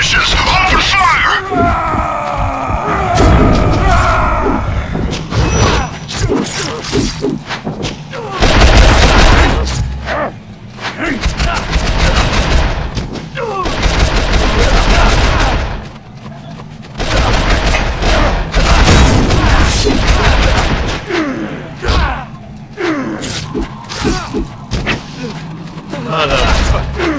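Soldiers open fire in X-Men Origins: Wolverine, loud bursts of gunfire and booms mixed with yelling and shouted voices, dense and close throughout.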